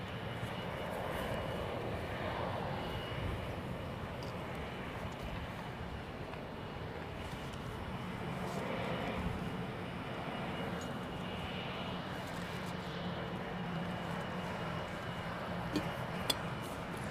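An airliner arriving at Heathrow in gusty wind gives a faint, distant engine rumble mixed with wind noise, swelling slightly and fading, with a small clatter near the end.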